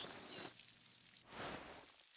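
Rain beginning to fall in the medieval-set game Pentiment, a soft steady patter with a brief swell of heavier pattering partway through, heard alone without voices.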